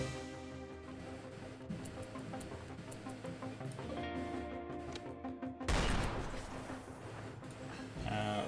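Gunfire crackles through a video game battle, with light scattered shots under a player's talk, then a sudden loud burst of fire partway through.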